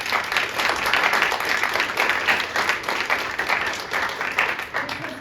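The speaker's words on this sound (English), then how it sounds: "Let's give this panel a round of applause." Audience members at an affordable housing event applaud a panel, producing close, lively clapping that swells and continues unevenly for several seconds.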